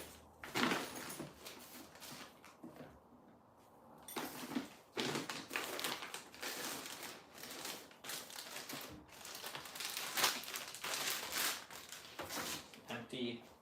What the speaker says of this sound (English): Empty plastic bag there